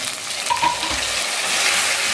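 Golden sliced onions sizzle steadily in a pan for a pea pulao, and a brief clatter and stir marks sliced tomatoes going in, with continuous close frying hiss and no talking.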